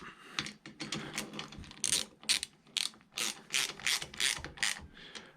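A ratchet tightens bolts on a Mini Cooper R53 intake manifold being fitted to an R50, giving close, loud bursts of rapid clicking in an irregular rhythm, with short pauses between strokes and no talk.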